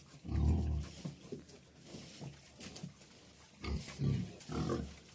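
Pigs, one of them a larger boar, grunting in a pen: low, fairly quiet snorts and grunts in several irregular bursts with pauses between.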